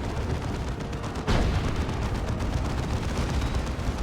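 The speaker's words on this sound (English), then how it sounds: "Maybe the plasma cannon was hitting her down there." Plasma cannon fire in the real-time strategy game Dawn of War 2, heard as a dense, continuous barrage of booming blasts and explosions with a sharp impact about a second in, loud and unbroken.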